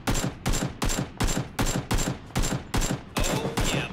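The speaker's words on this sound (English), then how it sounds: "I'm getting shot at." Rhythmic gunfire in PUBG, a run of about nine evenly spaced loud shots close by, each crack followed by a short echoing tail.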